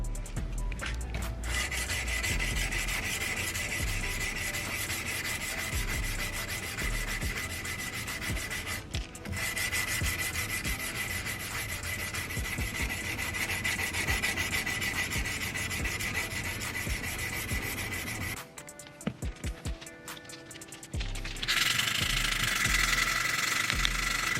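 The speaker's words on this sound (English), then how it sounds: "And now I'm just going to hand sand everything." Steady rasping rub of abrasive paper worked back and forth by hand on a forged hunting knife blade, continuous and close, with a brief pause and a harsher stretch near the end.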